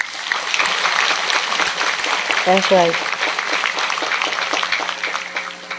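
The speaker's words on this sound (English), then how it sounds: "let's give a round of applause for all the disciples that helped put this book together" An audience at a celestial art book event applauds the disciples who helped put the book together, a steady dense clapping that carries throughout while a voice briefly speaks over it.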